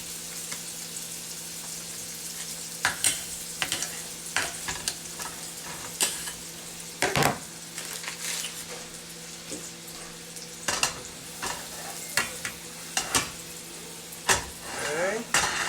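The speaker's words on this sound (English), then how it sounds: "I'm going to now add some butter. I like a lot of butter." Plenty of butter sizzling in a frying pan while breakfast pancakes are cooked, a constant close hiss with scattered utensil scrapes and clinks and occasional faint talk.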